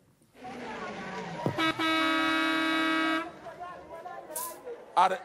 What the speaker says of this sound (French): Qui klaxonne comme ça?